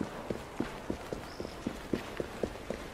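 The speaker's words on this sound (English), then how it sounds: "I'll bring your carriage around and wait for the cargo." Horse hooves clip-clop at an even walking pace, about a dozen moderately close strikes, as a horse-drawn carriage moves along a street in Assassin's Creed Syndicate.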